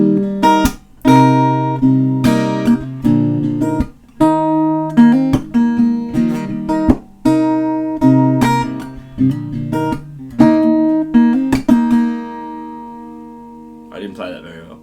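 Acoustic-style guitar strums the chorus chord progression of a song, with repeated accented strums and ringing chords close to the microphone, ending with a brief pause and a faint noise.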